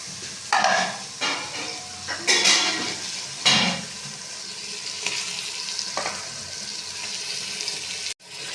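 Chicken frying in browned masala with garlic-ginger paste, chilli and tomato, a close sizzle with several loud stirring clatters and spoon scrapes in the first seconds, then steady frying hiss.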